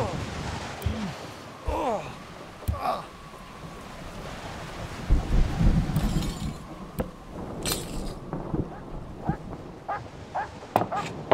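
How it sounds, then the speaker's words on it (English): Thunderstorm in the Rosemary's Fate story adventure game, with rumbling thunder swelling through the middle, rain and scattered sharp clinks and cracks, a voice speaking briefly at points. "This storm brought a natural darkness."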